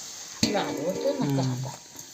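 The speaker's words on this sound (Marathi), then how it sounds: "तोपर्यंत आपला कांदा इकडे मस्त फ्राय होतोय लाल होतोय" Chopped onion frying in a pan until it turns red gives a steady, close oily sizzle, with a sharp clatter near the start and a voice-like tone running over the hiss for a moment.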